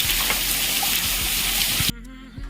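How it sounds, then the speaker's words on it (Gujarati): Heavy rain pours from dark clouds in a dense, steady hiss with scattered drops tapping, then cuts off abruptly to near-quiet for the last half second. "કાળા ડિબાંગ વાદળ છે અને જોરદાર વરસાદ આવે"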